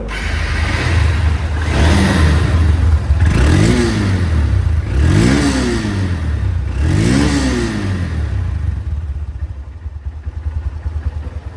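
A second-hand Honda Hornet motorcycle engine idles loudly up close, then revs three times in evenly spaced rising and falling roars before settling back to a rough idle.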